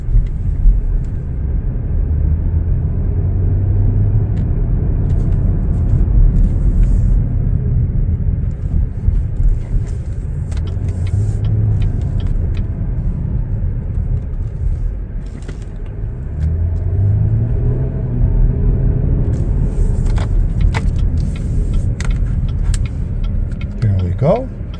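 Inside a 2022 Chevrolet Blazer RS on the move, a steady low road rumble and engine hum fill the cabin, with a voice talking over it at times.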